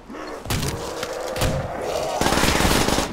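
Double-barrel shotgun blasts in a custom zombies video game, a few loud broadband bangs spaced across the moment, the last one heavier and more sustained, with faint game noise underneath.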